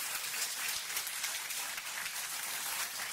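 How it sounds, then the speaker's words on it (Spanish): Steady applause fills a church service honoring the Lord, a dense, even wash of many hands clapping at a soft, distant level without any voices over it. "strong applause to the Lord."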